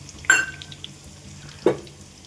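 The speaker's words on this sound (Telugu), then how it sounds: "మెంతులు వేస్తున్నాను." Two short, sharp sizzles about a second apart as fenugreek seeds drop into hot oil, each burst quickly fading back to a quiet background.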